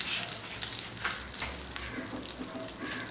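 Chopped onions frying in oil with asafoetida for a baby potato dum gravy, a steady broadband sizzle with bright crackling, close and continuous throughout without talk.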